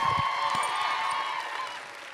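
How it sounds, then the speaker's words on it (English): An audience at a comic convention applauds the Lost Boys reunion cast, a brief wash of clapping and light cheering with a bright sustained tone, tapering slightly toward the end. "Can we have a round of applause for our wonderful Lost Boys?"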